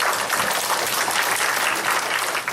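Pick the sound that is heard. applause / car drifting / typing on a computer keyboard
applause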